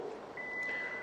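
A Hyundai power trunk gives its warning beep as it opens: one steady, high electronic tone starts partway in and holds to the end over low background noise.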